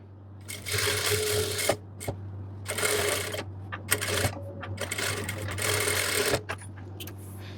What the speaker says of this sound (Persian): سوزن توی پارچه باشه، پایه رو بلند بکنید، یه مقداری کم پارچه رو بچرخونید و دوختتون رو انجام بدید